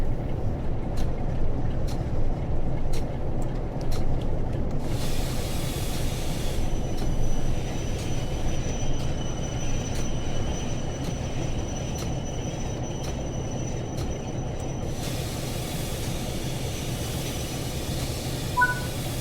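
A model freight train rolls steadily along its rails past a diorama of track workers, a continuous close rumble of wheels with a sustained metallic squeal through the middle stretch and no voices.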